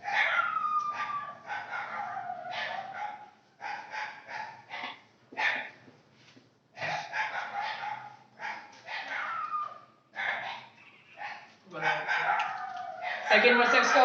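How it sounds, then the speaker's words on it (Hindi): Dogs barking repeatedly in the background while a person talks in Hindi over them for most of the stretch, during a math lesson. "ये डॉग बहुत भौंक रहे हैं तो बाहरी आवाजों को नजरअंदाज कीजिएगा"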